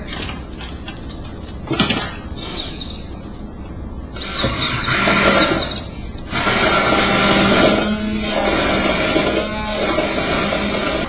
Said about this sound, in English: So I got my hand blender here.